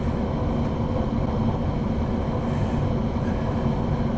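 German train in Train Sim World 2 on PS5, running steadily with a constant low rumble and rolling drone, close and even throughout with no voices.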